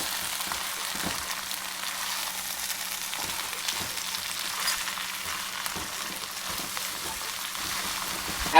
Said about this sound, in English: 2 stalks of celery, 3 onions sliced, and just allow this to cook for another 4 to 5 minutes